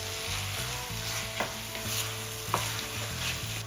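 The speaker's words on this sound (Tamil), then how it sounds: "இப்போ தக்காளி பழத்தையும் ஒரு கிளறி விடுவாங்க" Chopped tomatoes stirred into a hot pan for chicken biryani give a soft, steady sizzle with a couple of sharp utensil clinks against the pan, under a faint low hum, no talking.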